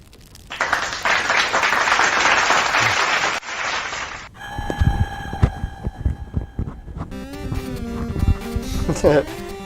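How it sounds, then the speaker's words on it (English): A burst of clapping and cheering applause fills the first few seconds during a live stream, then cuts to a thumping, hum-laden electronic sound effect with music-like tones. "Let's give Sid a round of applause."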